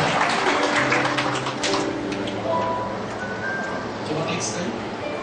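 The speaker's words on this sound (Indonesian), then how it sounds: "Kita berikan tepuk tangan kemuliaan bagi Tuhan bersama-sama." A church congregation applauds together, a broad wash of clapping that is loudest at the start and tapers gradually, with a sustained tone and some cooing sounds beneath it.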